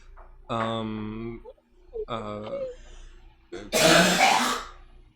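A person makes two drawn-out, voiced throat-clearing sounds up close, then lets out a harsh, rough cough. No words are spoken.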